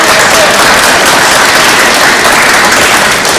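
At an annual town meeting in Middleton, the hall breaks into a big round of applause for Jack, a loud, thick, unbroken roar of clapping that carries for the whole stretch.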